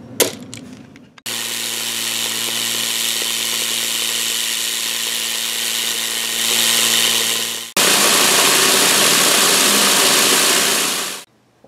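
A vibratory tumbler polishes rusty Allis Chalmers 310 tractor parts, a steady loud mechanical rattle and hum that shifts in tone partway, then runs on before cutting off near the end.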